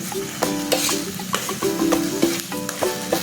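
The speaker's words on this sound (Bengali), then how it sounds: "পেঁয়াজটা হালকা একটু ভেজে 1 চামচ রসুনের পেস্ট ও 1 চামচ আদার পেস্ট দিয়ে" Sliced onion with garlic and ginger paste fries in a pan for dhaba-style dahi butter chicken, a soft sizzle under repeated metallic scrapes and clinks of a spatula stirring in an irregular rhythm.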